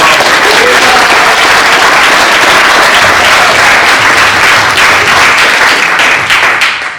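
A loud crowd at a publication event breaks into sustained applause, dense clapping filling the room at full volume before it begins to fade in the last second.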